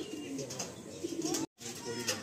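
Pigeons in a loft keep up a steady cooing and soft fluttering, fairly close. The birds are Andhra and Madrasi breeds. A brief dropout breaks the sound near the middle.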